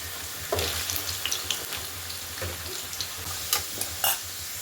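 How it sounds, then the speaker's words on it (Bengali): Cut potatoes fry in hot mustard oil, giving a soft, hissing sizzle with brief scraping bursts from stirring every second or so; fairly quiet and close, with no talking. "প্রথমে একটু সর্ষের তেল নিয়ে ভালো করে গরম করে আগে তাকে কেটে রাখা আলুটাকে দিয়ে দিলাম, দিয়ে ভালো করে লাল লাল করে ভেজে নিতে হবে।"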